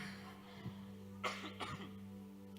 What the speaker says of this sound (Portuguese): ainda eu estou com uma tosse alérgica